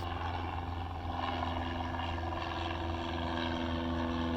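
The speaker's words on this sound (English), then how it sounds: "there were tons of small planes flying overhead" Small propeller planes drone steadily overhead near an airport beside a Christmas tree farm on a clear, sunny day, making a continuous buzzing hum at moderate distance with no talk.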